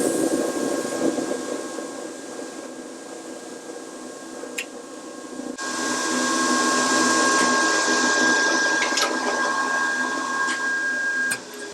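A rotary phase converter running and generating three-phase power in a workshop, giving off a steady broadband whir with a faint electrical hum that grows somewhat louder partway through, with a few small clicks.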